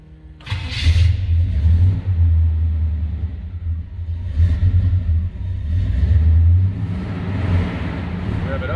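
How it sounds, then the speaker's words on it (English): A 1968 Chevrolet Suburban three-door truck engine cranks and catches, then settles into a loud, steady low rumble with a few swells of revving, running close by for several seconds. "I'm gonna get the hood open and we'll fire this truck up for you"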